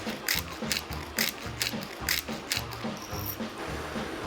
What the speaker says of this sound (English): Also, we're gonna add some black pepper. I like the pepper grinder.